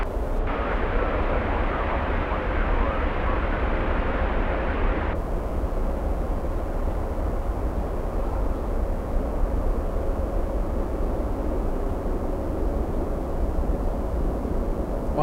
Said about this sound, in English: heavy Boeing 747 to touchdown